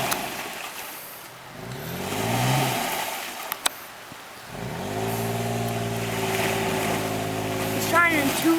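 A vehicle engine stuck off-road in the Hamptons revs hard in two long rising and falling bursts, likely in two-wheel drive, with wind noise and voices around it.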